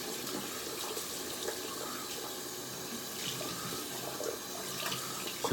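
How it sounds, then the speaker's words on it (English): Water runs steadily from a tap as a shaving brush is rinsed under it, a constant close splashing hiss with a few brief shifts as the brush moves through the stream. "Just gonna wash out this brush here."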